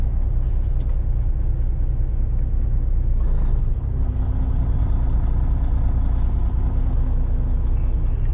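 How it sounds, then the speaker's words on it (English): A short day cab truck backing up produces a loud continuous diesel rumble with a brief hiss partway through, heard close and steady throughout. "So this is a day cab, so super short truck."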